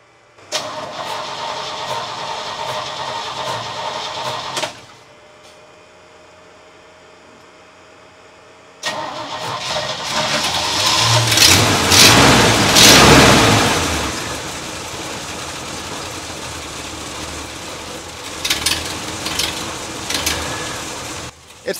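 A 1968 Chevrolet C10 pickup engine cranks, cuts off for a few seconds, then cranks again, catches and roars loudly before settling into a steady idle, with a few clicks near the end.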